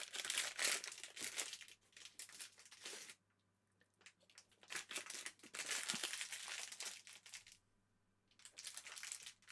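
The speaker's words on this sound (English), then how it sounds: "If you hear crinkling, it's because I'm getting a cookie." Cookie wrapper crinkling up close in bursts, several loud rustling crackles separated by short quiet gaps.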